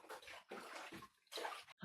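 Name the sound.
hot liquid poured into sugar for nettle beer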